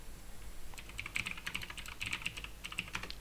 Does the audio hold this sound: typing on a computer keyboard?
yes